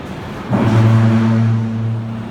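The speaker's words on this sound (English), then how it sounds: "So if I keep going down to that side, that motor should stop." The motor of a Jtech DSL-16 keeps running past a failed cutoff switch. A steady droning whir kicks in about half a second in and holds at an even pitch, close and fairly loud, with no talking.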